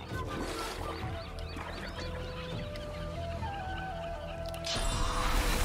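A chicken clucks repeatedly in Divinity: Original Sin, with steady close clucks over a humming game soundscape and a louder burst of noise near the end.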